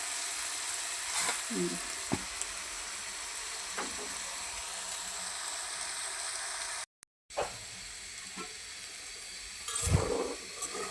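Beans, cauliflower and potato fry in a pan and are stirred, a quiet, continuous close sizzle with occasional scraping stir sounds and a brief moment of silence midway.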